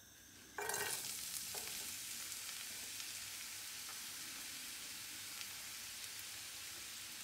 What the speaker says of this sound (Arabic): نديرو البصله حتى تحمر لينا